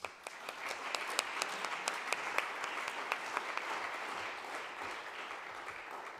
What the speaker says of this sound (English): please give another hand of applause to them